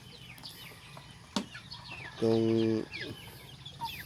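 Heritage chickens, Rhode Island Red and Black Australorp, give a loud, close, drawn-out cluck lasting about half a second, with softer bird calls scattered around it and someone speaking briefly nearby.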